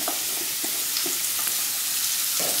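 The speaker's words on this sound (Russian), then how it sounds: "Кабачки нам нужно обжарить." Cubes of peeled zucchini fry in vegetable oil in a pan over a fairly high flame, a steady loud sizzle with occasional soft stirring knocks.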